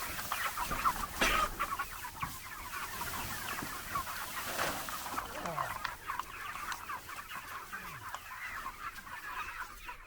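Chickens on a small farm raising pigs and chickens cluck steadily throughout, with scattered nearby calls over a constant farmyard background; a person talks briefly among them.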